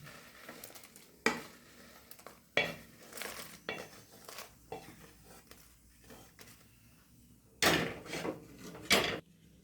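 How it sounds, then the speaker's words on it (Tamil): Red chillies roasting in hot oil for idli podi, with intermittent stirring, scraping and clattering of a spoon against a metal pan over a low, quiet sizzle; sharp bursts of activity come and go. "கடைசியாக மிளகாய் வறுத்து எடுத்துட்டு இந்த எண்ணெயை நிறுத்தி வச்சிடலாம்."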